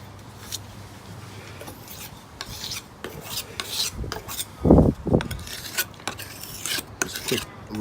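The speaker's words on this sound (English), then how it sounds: "Just a quick rolling over of any burr that might be remaining on the edge." Knife edge being lightly deburred on a clamp-style sharpening system after honing to a 17-degree bevel, giving soft intermittent rasping and rubbing strokes with a louder scrape near the middle, close and fairly quiet.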